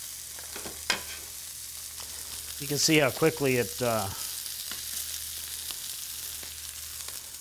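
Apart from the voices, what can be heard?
beef searing in a hot pan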